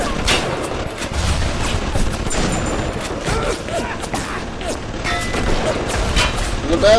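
Turret gunfire in Bioshock, dense continuous rattling fire from two turrets with mechanical clanks, loud and sustained, with a voice speaking briefly over it.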